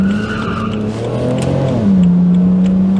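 A BMW Z4 engine pulls hard in second gear while climbing a hill, a steady sustained drone that rises in pitch and firms up partway through, heard close and continuous with no talking.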